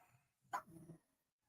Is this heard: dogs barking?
yes